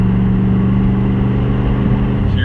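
Loud, steady rumble of a revving engine on a Chevy truck fitted with straight pipes, heard from inside the cab with a deep, continuous drone throughout.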